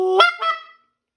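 A goose flute call blown in two quick honking bursts, a clucking break between them, loud and close with no voices.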